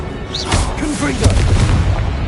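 Confringo fire spell explosions in the video game Hogwarts Legacy, a couple of loud booming bursts with crackling tails, close and heavy, mixed with a spoken voice.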